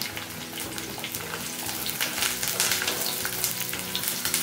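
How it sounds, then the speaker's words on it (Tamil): Curry leaves, green chillies and shallots sauté in hot oil with mustard seeds and urad dal for a prawn thokku, giving a loud, continuous crackling sizzle with a steady spitting texture and occasional stirring. "கருவேப்பிலை அண்ட் பச்சை மிளகா அதோட சின்ன வெங்காயம் முதல்ல இதை போட்டு நல்லா வதக்கி எடுத்துக்கணும்"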